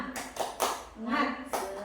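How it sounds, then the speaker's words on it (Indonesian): A group of women at a teachers' training session do a rhythmic spirit clap, with several sharp bursts of clapping mixed with voices and chatter in a close indoor room. "Tepuk semangat dulu ibu-ibu, tepuk semangat."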